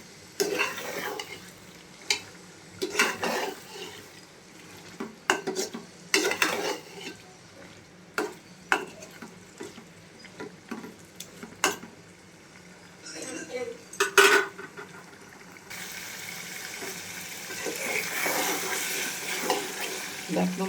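Small pieces of pangas fish are stirred and fried in a pan for a spicy fish bhuna. A spatula scrapes and clinks against the pan in irregular strokes over a soft sizzle, and the frying grows louder and steadier near the end.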